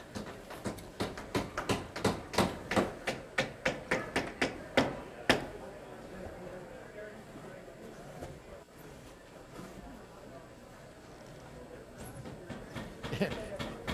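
A hammer taps repeatedly on a work piece during construction work with extruded insulation and sealing. The strikes are quick and evenly spaced for about five seconds, then stop, and a few faint taps return near the end. Voices talk quietly throughout.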